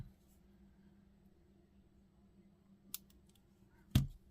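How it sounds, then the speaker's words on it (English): Scissors make two close, crisp snips while trimming the end of the wire on a handmade tree of life with sapphire crystals: a small cut near three seconds, then a louder, sharper snip just before the end, in near silence. "I'm going to snip that end off"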